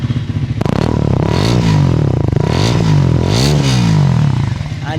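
A Triumph 350cc motorcycle engine kicks in and revs hard and close, rising and falling blips of a punchy single-cylinder tone over a loud idle, throttle swells repeating several times.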